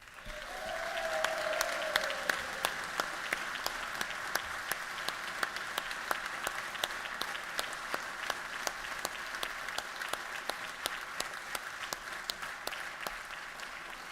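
Sustained audience applause for National Guard members at a legislative session, a steady dense wash of clapping with sharp individual claps standing out, holding at an even level for the whole stretch.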